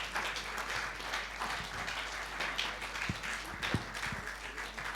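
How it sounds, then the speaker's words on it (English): Audience at a launch event for a Japanese management centre giving a warm round of applause, a soft, continuous patter of many hands clapping at a distance. "Amidst a warm round of applause from all of you"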